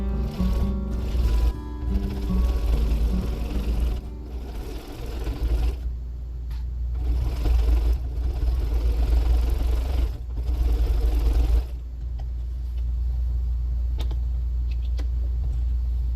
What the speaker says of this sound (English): I'll just stitch that bottom seam like I did the side seams, zigzag it closed